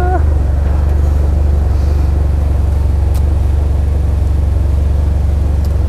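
A Vanderhall Venice GT's engine drones steadily while driving, a constant low rumble with strong low-end hum running unbroken throughout, no clear revving changes.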